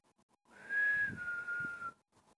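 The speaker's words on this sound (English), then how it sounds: "Can you whistle?" A person whistles a single sustained note that holds steady and then steps slightly lower, close to the microphone and lasting about a second and a half, with no talking.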